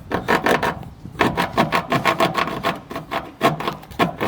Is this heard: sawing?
yes